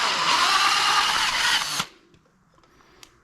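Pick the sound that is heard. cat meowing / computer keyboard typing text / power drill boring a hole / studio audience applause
power drill boring a hole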